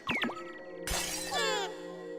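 A glass cup shatters in the Hey! Pikmin video game: a sudden bright crash of breaking glass with a scattering tinkle, following a few short game sound effects, with no talk.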